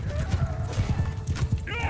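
Cavalry horses gallop in Mount & Blade II: Bannerlord, a steady, dense clatter of hoofbeats with an occasional whinny rising near the end, loud and close throughout.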